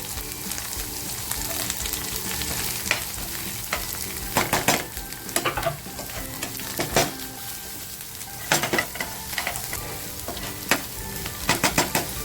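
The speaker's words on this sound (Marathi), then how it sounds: "आता जो कांदा आणि टॅमॅटो कापला होता तो टाकते" Chopped onion and tomato sizzle in spicy masala in a pan for a barfish and spinach curry, a steady dense frying hiss with repeated scraping stirs and utensil clinks, close and alone without talk.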